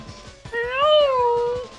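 A plesiosaur in the video game Ape Escape lets out a drawn-out, cat-like meow, a single rising and falling cry of about a second that sits over a quieter run of repeated game sounds.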